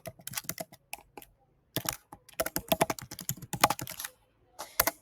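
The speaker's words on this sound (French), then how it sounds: "Je vais taper mon adresse mail." An email address is typed on a computer keyboard in brisk, close clicking bursts broken by short silent pauses, with a final flurry of keystrokes and no voices.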